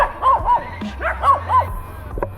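Several neighbouring dogs bark in short, repeated bursts, fairly close and loud, with a couple of yips trailing off near the end.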